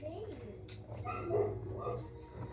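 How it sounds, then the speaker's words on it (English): Dogs bark and whine in short bursts nearby, mixed with a person talking over them, indoors during pet mouse care. "Sorry about the dogs barking."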